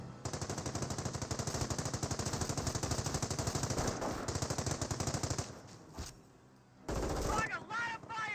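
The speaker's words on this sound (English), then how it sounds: "30 cal now firing, suppressing down the Panzer Grenadiers" A .30 cal machine gun in Company of Heroes fires long sustained bursts of rapid, steady rattling, loud and close, then cuts out briefly before more gunfire resumes.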